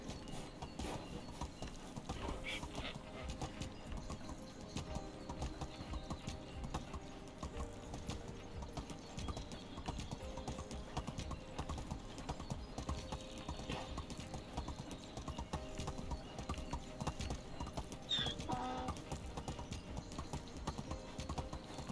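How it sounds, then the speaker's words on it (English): A donkey in the medieval survival game Medieval Dynasty walks with a steady, rhythmic clip-clop of hooves that continues faintly and evenly throughout, with a brief neigh-like call near the end. "I do appreciate that we get random donkey noises"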